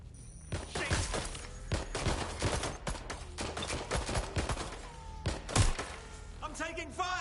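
Repeated gunfire in the Watch Dogs: Legion video game, a string of sharp shots and thuds at close range with bursts spread across the clip, heard under shouted in-game voices.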